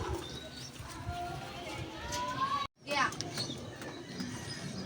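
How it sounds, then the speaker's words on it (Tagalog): Pigeons circling over a neighbour's coop in a residential area, heard as faint wingbeats and soft coos under nearby children's voices and chatter, with a short sharp cut midway. "May mga rumorondang ibon."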